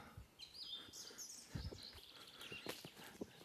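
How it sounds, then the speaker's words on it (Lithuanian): Small birds chirp faintly in a forest in March, with a few high twittering calls scattered over quiet background and soft thuds and rustles of nearby footsteps. "jau paukščiukai čiulba"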